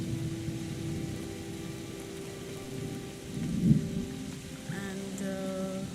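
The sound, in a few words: rain and thunder in the video game SEASON: A letter to the future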